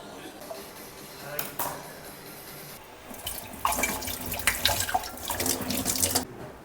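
Water splashes and runs in a kitchen sink as a cleaning cloth is dipped and swished, a brief trickle first, then a louder, sustained rush of sloshing water.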